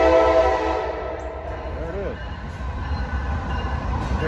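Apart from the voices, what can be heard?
train passing on rail line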